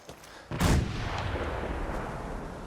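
Gunfire in the video game Fallout 4: a single heavy, booming shot with a long rumbling tail, followed by sustained loud roaring noise, close and with no talk.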